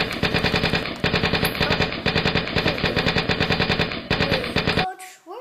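Automatic gunfire rattles in the video game Left 4 Dead as loud, continuous machine-gun bursts for nearly five seconds, then cuts off abruptly.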